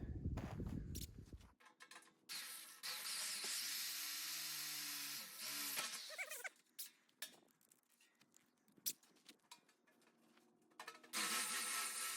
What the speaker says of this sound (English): I just need to drill some holes here so that way we can put the bolts in